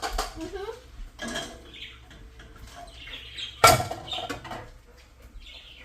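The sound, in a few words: mixing quinoa casserole ingredients in a bowl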